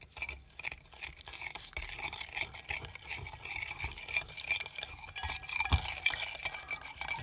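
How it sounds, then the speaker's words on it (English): A sticky mix of honey, boiling water, minced garlic and hoisin sauce being stirred briskly in a small bowl, rapid repeated scraping and clinking strokes heard close, with no talking. "give that a good mix"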